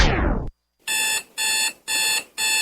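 An electronic alarm clock rings in four loud, evenly spaced beeping bursts, following a brief descending whoosh and a moment of silence.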